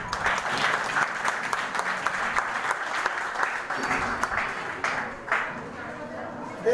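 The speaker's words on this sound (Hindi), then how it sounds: "हमारी बेटी के लिए जोरदार ताली बजा दो भाई।" Audience applause for a girl at a Gurgaon event fills the space with sustained clapping from a crowd, fairly distant and even, fading slightly near the end.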